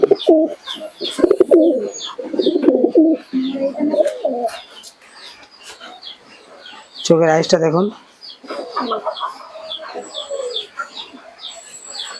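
Giribaz pigeons coo in soft, repeated rolling calls, with a bright chirp rising partway through and someone talking over much of it.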